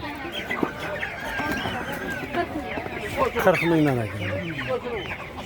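Chickens cluck and squawk at a poultry market, a steady run of nearby calls with a few louder cackles, while people talk and bargain over them.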